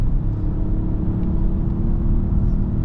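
A Peugeot 3008 hybrid climbing a hill on electric power at around 80 km/h, heard from inside as a steady, even low rumble and road hum with a faint whir, no engine revving and no voices.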